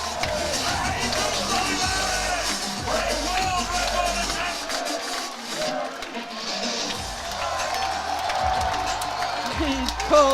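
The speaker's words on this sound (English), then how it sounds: "Here it comes, and the crowd chants Jesus." Powerlifting crowd at the IPF Sheffield 2025 championships chanting the lifter's name, Jesus, a loud rhythmic mass chant with yells and cheers filling the hall, with low rumbling pulses throughout.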